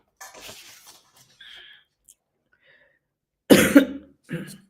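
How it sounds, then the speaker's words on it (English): A woman with a cold coughs at a public meeting, one sharp, fairly loud burst followed by a smaller second cough, after quiet, faint background voices. "excuse my cough and cold"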